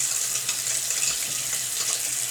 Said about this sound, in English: I got the cold water on